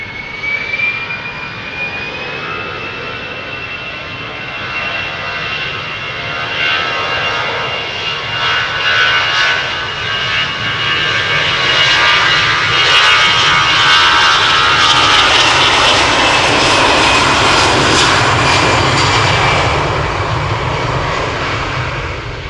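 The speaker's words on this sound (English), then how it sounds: "Australian Airlines to Vienna. A320, flight" An Austrian Airlines Airbus A320, flight 380 to Vienna, departs Amsterdam Schiphol close by, its jet roar building steadily and staying loud and broad through the pass, with a high engine whine early on.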